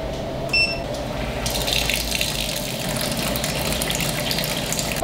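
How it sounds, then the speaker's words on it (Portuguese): Water runs into an Ezbrew K45 automated brewing system, a steady gush with a pump hum over a constant low mechanical drone, no voices. "Agora eu vou dar o play na água, quando a água passar o nível, ela vai começar a esquentar"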